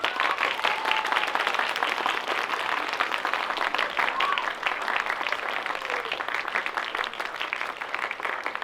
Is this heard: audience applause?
yes